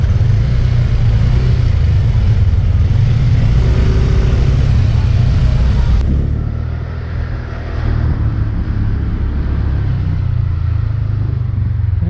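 A car moving through city traffic in the Philippines, a steady low engine and road rumble heard from inside the vehicle, continuous and fairly loud with a brief dip midway and no talking.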